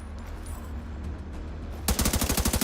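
Rapid machine gun fire in The Division 2 video game, a sudden burst of evenly spaced, loud shots cutting in after a low rumbling ambience and continuing to the end.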